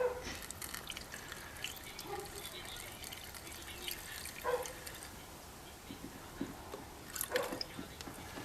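Tap water trickles and drips into golf cart battery cells, a faint, close, uneven dribble with a few brighter splashes, heard alone without talk.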